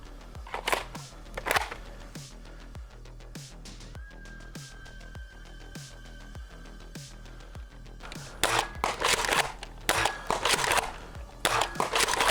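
A Jurassic World Dominion PyroRaptor pump-action spring dart blaster shooting at targets 30 feet away gives a steady run of sharp, close clicks and snaps, with a few louder clattering bursts toward the end.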